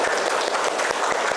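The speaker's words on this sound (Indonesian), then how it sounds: "Beri tepuk tangan untuk kita semua." A school class applauding together after a song and movement activity, a brief burst of brisk, dense clapping from many hands.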